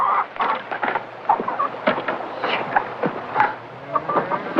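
Hens cluck repeatedly nearby, a busy overlapping chatter of short calls.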